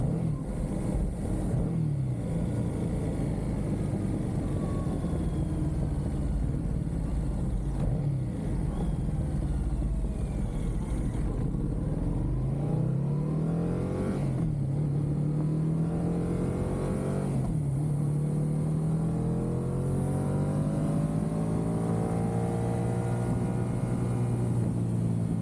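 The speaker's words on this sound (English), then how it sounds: "all you can hear is a loud ass motorcycle and cicadas" A loud motorcycle rides along, its engine rising and falling through repeated revs and gear changes, steady and close throughout. Cicadas are not clearly distinct under the engine.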